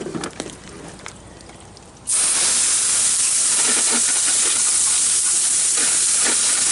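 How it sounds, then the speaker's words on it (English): A close, loud water spray rinses grass-caked lawn mower handles, a steady broadband hiss that starts abruptly about two seconds in and runs without pause to the end. "Trying to rinse it off and show you at the same time"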